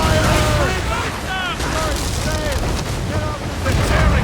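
Ship cannons booming in Assassin's Creed Rogue, heavy continuous blasts and rumble in a loud naval battle, with shouting voices over the gunfire.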